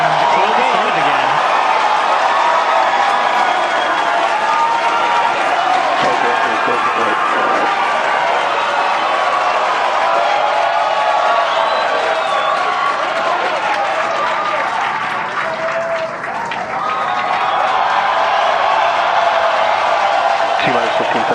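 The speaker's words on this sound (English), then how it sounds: "Cheering" A large crowd cheers and applauds steadily at a SpaceX Starship launch at Starbase, Texas, a dense continuous roar of clapping and shouting that briefly dips near the end before swelling again.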